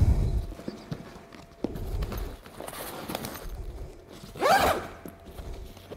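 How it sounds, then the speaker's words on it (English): Main zips of an Alta Fly roller bag being undone, a close ripping zipper run after some handling knocks and shuffling, no talk. "if you unzip the two main zips, they stop now"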